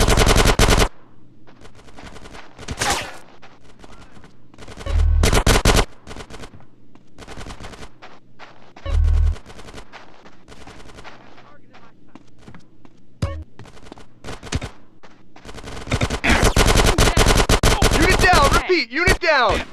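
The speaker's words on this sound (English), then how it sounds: "Get some suppressing fire in there." Bursts of automatic gunfire in Grand Theft Auto: San Andreas during the Reuniting the Families mission, loud close rattling volleys separated by pauses and building into sustained firing at the end, with game characters shouting over it.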